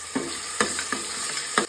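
Garlic paste hitting hot oil in a frying pan while cooking Konkan-style colocasia leaf curry, a steady sizzle with a few sharper stirring scrapes at intervals.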